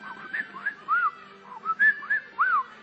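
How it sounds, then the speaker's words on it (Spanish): A mobile phone whistle notification repeating several times in quick succession, short rising-and-falling whistled chirps, clear and close over a quiet background. "me silba mi celular, no puedo dormir"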